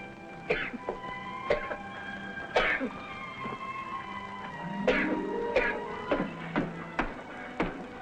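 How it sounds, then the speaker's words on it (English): A man in a 1957 Western coughs several times, short sharp coughs and throat-clearing spaced across the moment, with a faint sustained music bed underneath. "Something for your cough, no doubt, eh?"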